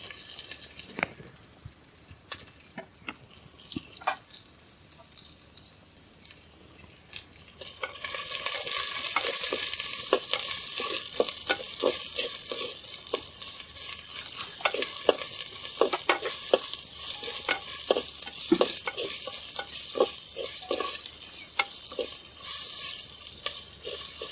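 Chopped onions and green chilies sizzle and crackle in hot oil in a clay pot, which grows louder after a few seconds, with scattered stirring clatter and pops throughout.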